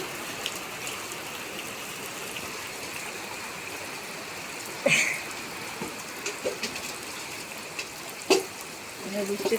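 Rain falls steadily on a village home, a continuous soft wash with a few sharper close knocks and splashes, while a voice is faintly present in the background.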